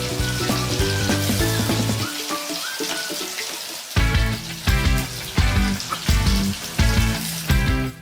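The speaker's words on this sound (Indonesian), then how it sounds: "Ikan sing wis bersih ini mau tak goreng sampai kering." Cleaned fish frying until dry in hot oil, giving a dense, continuous crackling sizzle that cuts off briefly and then returns with louder bursts, heard up close and alone.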